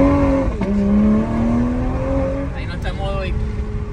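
A Toyota A90 Supra with a B58TU engine and a catless Armytrix downpipe accelerates hard, its exhaust tone climbing steadily and dipping briefly at a gear change. The engine sounds loud and close, and a voice speaks over it.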